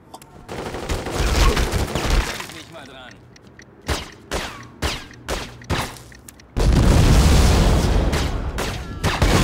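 Gunfire in the video game The Godfather II: dense automatic bursts and booms, then a run of separate sharp single shots, then another loud sustained volley, with no talking.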